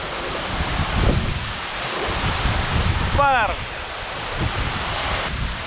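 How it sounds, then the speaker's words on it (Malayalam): Kuskem waterfall in South Goa, running low on water, makes a steady broadband rush of falling water mixed with wind, heard from nearby, with faint voices and a brief chirp in the middle. "ഇതാണ് കുസ്കെ വാട്ടർഫോൾസ്"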